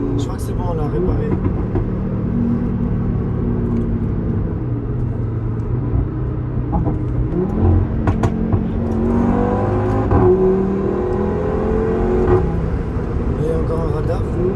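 An Audi RS3 engine rumbles and revs up and down over road noise in Dubai, with people talking in French over it throughout.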